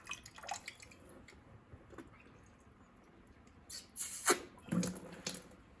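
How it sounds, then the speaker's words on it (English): Water drips and splashes irregularly out of a thawed frozen pipe, a few faint trickles then louder spurts near the end, close by with no talking. "Some water is coming, but it's not come very quick."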